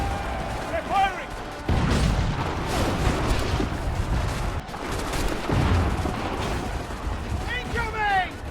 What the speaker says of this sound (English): They're firing!